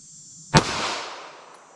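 One sharp, loud gunshot from a 5-inch M&P pistol firing 9mm American Eagle ammunition outdoors, a close crack that decays into a long fading echo.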